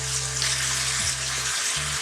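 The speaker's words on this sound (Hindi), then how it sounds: "अब इसको भूनना इतना है कि अच्छी तरह टमाटर सही से" Chopped tomatoes sizzle and fry in a pan with a steady, close crackling hiss, a faint low hum beneath, and no voices.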